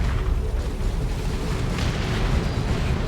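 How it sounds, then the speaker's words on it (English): Orbital strike explosions in the real-time strategy game Warhammer 40,000: Dawn of War 2, Space Marines versus Chaos, form a dense, sustained roar of heavy booms and rumbling blasts that stays loud throughout with no talk. "Big old booms."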